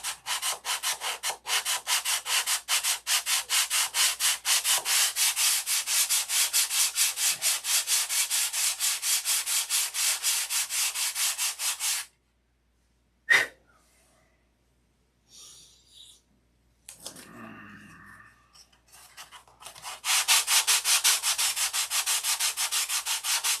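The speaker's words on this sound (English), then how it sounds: "I'm going to get this all sanded" A painted motorcycle part is sanded by hand in fast, even back-and-forth strokes, loud and close, stopping abruptly partway with a sharp knock and some quiet handling before the rasping strokes resume.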